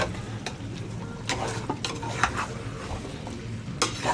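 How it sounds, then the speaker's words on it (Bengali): A spoon stirs chicken masala in a pan with a soft sizzle underneath and irregular scraping strokes and knocks against the metal. "আপনাকে ভালোভাবে চামচ দিয়ে সবগুলোকে মিক্স করে দেবেন যাতে কালারটা আসে"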